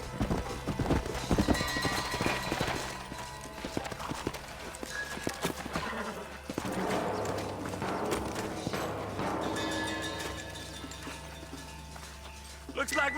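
Horse hooves clip-clopping in the Red Dead Redemption video game, a rhythmic trot of several horses mixed with game music and voices, steady throughout.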